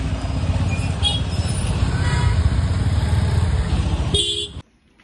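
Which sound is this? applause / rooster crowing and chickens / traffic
traffic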